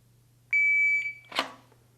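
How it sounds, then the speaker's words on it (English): A shot timer buzzer at a shooting stage gives a loud electronic beep of about half a second, followed by a sharp burst of noise, with a faint low hum underneath. "the buzzer's getting ready to go off"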